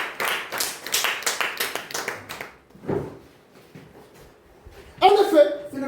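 A church congregation breaks into rhythmic clapping, a quick series of claps that fades. After a short lull, a voice and more clapping join in near the end.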